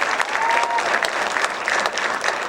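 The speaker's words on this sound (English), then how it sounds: "Please give them one more round of applause before you take off for the evening" An audience in a school concert hall claps loudly and steadily for a jazz band, a dense and continuous wash of applause from start to finish.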